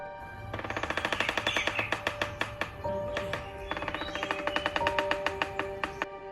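A woodpecker drums in fast, even bursts of sharp taps, repeated for several seconds with a short pause midway, over a musical backdrop.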